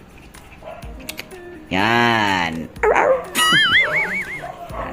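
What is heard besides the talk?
dog barking and whimpering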